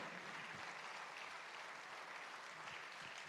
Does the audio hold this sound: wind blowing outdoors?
no